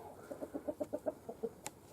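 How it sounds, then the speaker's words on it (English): A chicken clucks in a garden while scratching and digging around, giving a run of soft, rhythmic clucks close by with a short squawk near the end. "there's always a chicken digging stuff up."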